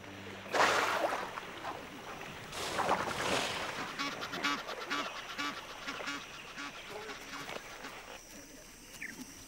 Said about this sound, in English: The Egyptian geese retreat to the scanty protection of some floating foliage.